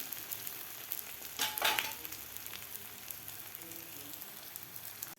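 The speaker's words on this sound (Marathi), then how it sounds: "खालची बाजूसुद्धा आपल्याला व्यवस्थित 2 मिनिट फ्राय करून घ्यायची आहे." An egg Maggi paratha frying on a tawa, giving a faint, steady sizzle with a brief louder crackle near the middle.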